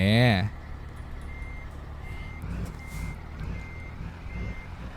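A Hino 500 truck hauling a timber trailer parks on dirt ground: a loud warning tone sounds briefly at the start, then the diesel engine rumbles on steadily.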